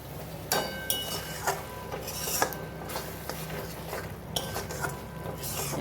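Chicken being stirred in a cooking pan for chicken vorta: repeated scraping and clinking of a utensil against the pan, in irregular strokes, over a faint sizzle.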